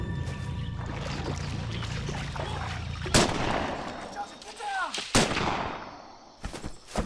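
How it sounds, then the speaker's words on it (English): Sniper rifle shots in a WW2 jungle battle between Japanese snipers and Marines, a few sharp loud cracks standing out over a rumbling background with narration. "Japanese snipers, expertly camouflaged in the dense brush, take shots at the Marines."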